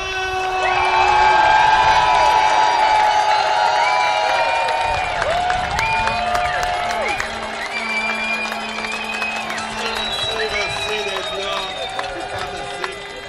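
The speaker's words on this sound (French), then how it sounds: "j'invite à applaudir chaleureusement Daniel Bulard!" A peaceful protest crowd calling for freedom cheers, whoops and shouts loudly and without pause, with voices rising over a continuous roar of applause.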